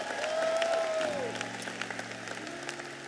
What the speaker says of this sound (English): Can we give Pastor Marco a round of applause right now?